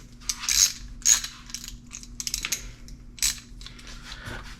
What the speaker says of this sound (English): It looks like it's a 10 socket to remove this fuse box